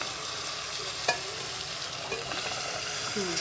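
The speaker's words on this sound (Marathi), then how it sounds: "बघा गरम पाण्याने लगेच इन्स्टंट उकळी आली ना" Water hisses and bubbles as it comes to a boil in a pot of spiced rice, with a couple of light metallic clinks; no talking.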